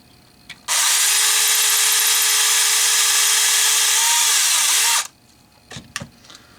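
A power drill whirs loudly and steadily for about four seconds, then stops, followed by a few light clicks and handling knocks.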